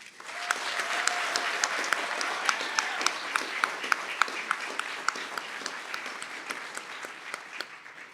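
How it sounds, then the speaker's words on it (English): Commencement audience at a Kent State Stark graduation ceremony applauding the graduating class, a sustained wash of many hands clapping with a few sharper nearby claps standing out, steady throughout. "Let us join in applause for our graduating class."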